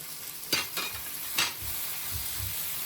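A spatula stirs peppers, mushrooms and olives in a pan, giving two or three distinct scraping strokes over a soft continuous sizzle, with low thuds toward the end and no speech.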